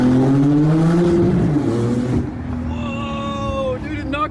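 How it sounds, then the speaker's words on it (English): Porsche 911 Turbo accelerating hard through a tunnel, its engine note climbing in pitch toward the rev limiter, loud and echoing before dropping off, with excited voices talking over it. "I hit the rev limiter right there a little bit."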